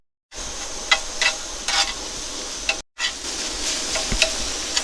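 Spicy sausage frying in a pan with ginger and garlic, giving a steady close hiss and sizzle broken by a few scraping stirs. A brief gap of silence falls in the middle, and no one speaks.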